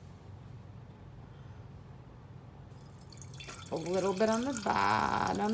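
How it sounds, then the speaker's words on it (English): Vinegar is poured into a glass mason jar, a gurgling, rising liquid stream that starts partway through after a quiet stretch, with a person talking just beforehand. "We're going to take the vinegar and we're going to pour"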